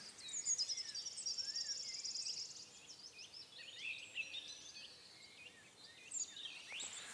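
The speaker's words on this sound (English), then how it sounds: "listen to the birds chirping away in the trees." Birds chirp and twitter continuously in woodland trees among quiet surroundings, several calls overlapping, light and fairly distant, with no voices.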